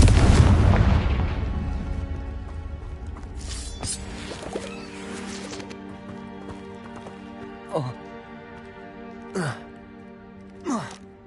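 A Confringo fire spell bursts in Hogwarts Legacy with a loud, roaring blast at the start that fades into a long rumble, followed by three short, sharp spell zaps spaced a second or two apart, with game voices faintly underneath.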